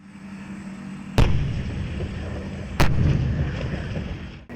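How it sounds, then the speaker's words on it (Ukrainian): Two sharp, heavy tank cannon blasts ring out about a second and a half apart over a steady low tank engine rumble during a live-fire tank crew competition, each followed by a rolling echo. "Екіпажі стріляють із гармат та кулеметів по стаціонарних та рухомих мішенях"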